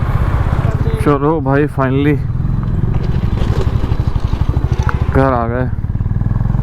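A Honda Highness motorcycle loaded with saddle bags rumbles steadily and loudly up close while riding, its engine throb continuous under someone talking.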